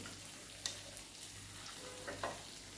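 Spices are stirred into frying okra curry, giving a low continuous sizzle with a couple of soft scraping knocks from the spoon against the pan, and no speech.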